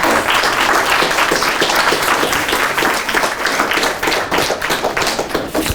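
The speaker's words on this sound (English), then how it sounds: "Clapping is in order." Applause from a model US Senate and House voting session breaks out after a bill passes, a dense burst of many hands clapping at once, loud and steady throughout, with a few sharper taps standing out in the roar.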